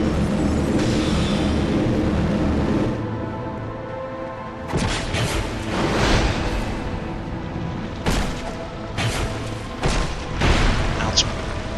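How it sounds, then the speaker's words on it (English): Explosions in the video game Dark Souls II boom through a dense wash of game sound, with several sharp crashing bursts in the second half, loud and near. "She does have a little explosion."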